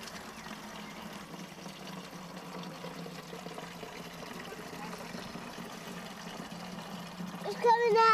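Water poured into a pot on an allotment to soak it, a steady trickling splash under a person speaking and outdoor background, growing louder toward the end.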